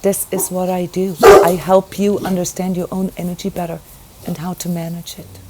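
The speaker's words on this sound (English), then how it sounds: "I apologize for the barking in the background." A dog barks in the background while a person speaks steadily over it, with a louder, rougher burst of barking near the start and quieter yaps under the voice.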